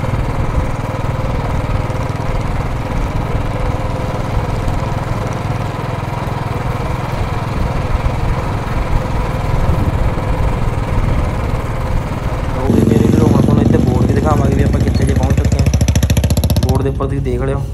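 A Royal Enfield Bullet motorcycle engine idles steadily and close by on a mountain ride, its low thumping drone continuous throughout and growing louder and rougher toward the end, with no talking over it.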